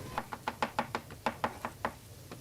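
Knife rapidly dicing chilli on a chopping board, about a dozen crisp, evenly spaced taps in a quick steady rhythm, close and fairly quiet with no talk.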